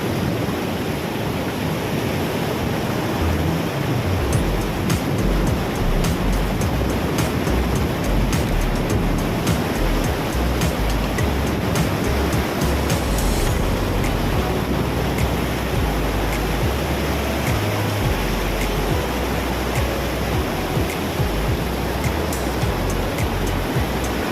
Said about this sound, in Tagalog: malakas yung agos eh